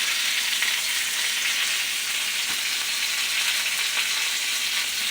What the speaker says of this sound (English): We'll see how it turns out when it's through frying.